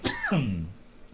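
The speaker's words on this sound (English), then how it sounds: "Sorry about the cough." A man coughs once, a short harsh hack that sounds close and rough, almost like clearing his throat, then fades into quiet room tone.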